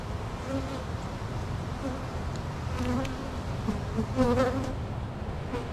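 Honey bees buzzing around an open backyard hive: close, steady droning with individual bees flying past the microphone, rising and falling in pitch.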